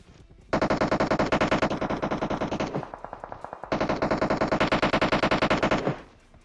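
Rapid automatic gunfire in the mobile battle-royale game PUBG Mobile, two long loud bursts of evenly spaced shots separated by a brief pause, close and dominant with no talk.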